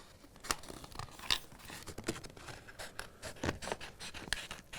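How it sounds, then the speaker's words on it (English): Scissors snip through excess decal backer and transfer tape in a series of sharp, close, irregular cuts and crinkles, quiet overall and without speech. "I'm going to take my scissors, and I'm just going to cut"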